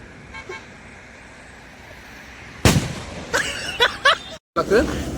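A sutli bomb firecracker goes off outdoors in a village with a single loud sharp bang, followed by a few shorter bursts and a brief cut-off near the end, over faint background hiss.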